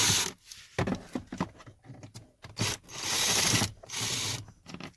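A ratcheting driver with a T15 Torx bit clicks in short bursts as it removes screws from an HVAC blend door actuator on a 2014–2019 Chevrolet Silverado, close and crisp, with handling rubs between the bursts.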